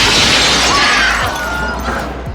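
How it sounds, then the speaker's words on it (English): Door glass shatters in a Scream movie scene, a loud burst of breaking glass that trails off into scattered tinkling shards over a couple of seconds. "that girl reacts to Casey's door getting shattered"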